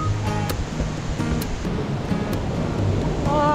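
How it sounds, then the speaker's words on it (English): Steady rushing water from a waterfall along a stair trail on New Zealand's South Island West Coast, a constant broadband roar filling the clip with no talk. "I can hear the waterfall"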